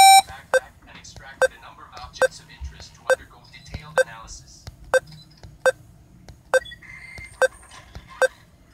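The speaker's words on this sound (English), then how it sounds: "every time you hear that beep noise" A mobile game on an Android phone emits short, sharp electronic beeps at steady, evenly spaced intervals, about ten in a row, with a voice talking quietly between them.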